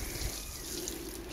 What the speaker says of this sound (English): Now I'm just gonna go and turn the hose off.